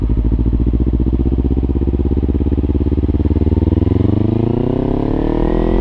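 A motorcycle engine pulls away slowly over gravel, a steady close, loud throb that climbs in pitch as the rider eases the clutch out and opens the throttle.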